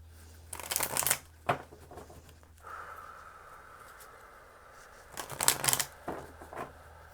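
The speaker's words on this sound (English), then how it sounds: "3 more shuffles." Two bursts of riffling tarot card shuffles, one early and one near the end, with a quieter soft rustle between them; close and fairly crisp.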